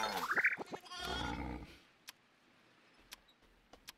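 A sheep bleats in the farm video game Farm Frenzy 4, a short wavering cry at the start followed by a low rumbling stretch, then a few faint clicks from the game interface.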